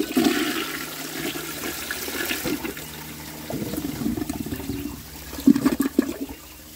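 Flush of an early 1900s forward-trap toilet run on 1.6 gallons, a gurgling rush of water that swells, drains and surges again near the end, close by with no talk.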